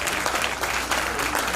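An audience at the final of a Hakka stir-fry cooking championship claps steadily, a loud, close and continuous burst of applause.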